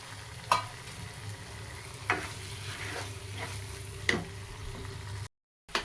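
Ground masala fries in hot oil for a village-style egg curry, a steady close sizzle with sharp scrapes of the spoon stirring the pan roughly every two seconds.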